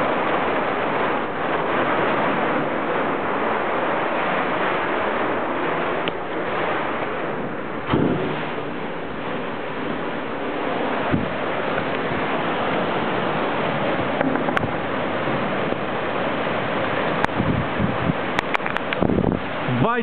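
Sheet metal roofing rattles and clanks in a strong storm wind as clouds arrive, with a constant roar of gusts and scattered sharp metallic knocks, plus some voices.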